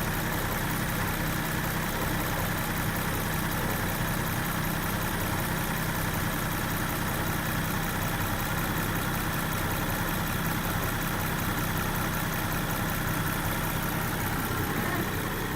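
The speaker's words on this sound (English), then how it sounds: "listen to the engine here" A 2022 Land Rover Defender 110 X Dynamic idles steadily with its hood open, a constant dense engine drone that stays level throughout with no talking.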